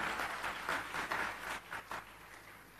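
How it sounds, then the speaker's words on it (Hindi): An audience at the inauguration of a police complex in Chandigarh applauds to welcome the chief guest, a fairly faint wash of clapping that swells in bursts and fades near the end. "आपकी जोरदार तालियों में हम उनका अभिनंदन करेंगे और उनके आशीष वचनों को सुनेंगे।"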